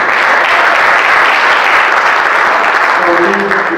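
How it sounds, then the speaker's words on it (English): Audience at a fathers' conference applauding the mayor: loud, dense, sustained clapping from a large crowd filling the room, with a voice starting to come through near the end. "let's give our mayor another round of applause"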